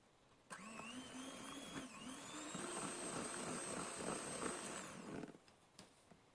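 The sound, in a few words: mixing honey into the cake batter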